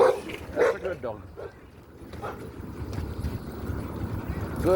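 A dog barks a few times, with yips close by at the start and again near the end, over engine-like rumble while a person talks.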